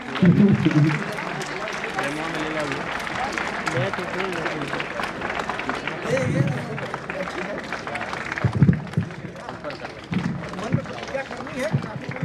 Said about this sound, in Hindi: एक बार और जोरदार तालियों से आप स्वागत करें, जोरदार तालियों से।